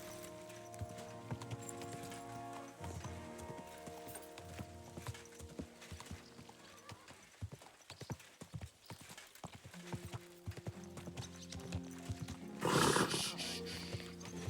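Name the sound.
horse hooves and whinny, from video game Kingdom Come Deliverance II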